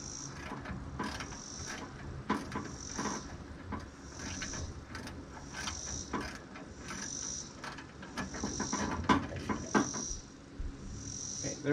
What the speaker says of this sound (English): So let me get this bottom bolt out.